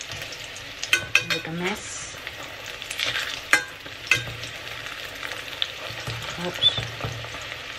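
Sardine omelette (tortang sardinas) frying in oil in a pan, a soft steady sizzle with spatula scrapes and clinks as it is turned, while someone speaks briefly.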